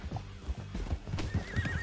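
Horse hooves clip-clop in an uneven rhythm in Red Dead Redemption 2, joined by a whinny partway through, fairly close and moderately loud with low rumbling game ambience beneath.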